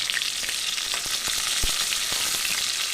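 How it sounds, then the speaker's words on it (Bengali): Pointed gourd (potol) frying in white oil and ghee, a steady dense sizzle with scattered crackles and a few soft thumps from stirring, close and continuous with no talk. "এবার এর মধ্যে দেব লবণ দিয়ে পটলটাকে ভেজে নেব।"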